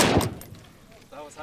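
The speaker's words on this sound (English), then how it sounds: "draw your pistol, and then get 4 hits on the 4 steel targets to the left" A pistol shot in a 2-gun shooting drill aimed at steel targets, one loud close crack at the start whose echo trails off, then a fainter second report near the end.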